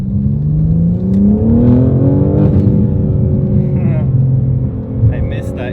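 A BMW G8X with the S58 engine revs hard, its intake roar and a slight turbo whir rising and falling in steady swells, loud and close throughout.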